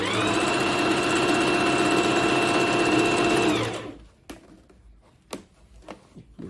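A Bernette B05 Academy sewing machine stitches single-layer jersey in a fast, loud, steady whirring hum for several seconds, then stops, leaving quiet handling clicks and rustles.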